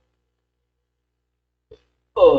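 A single throaty burp erupts near the end after a long stretch of near silence, loud and close, from a person playing Genshin Impact.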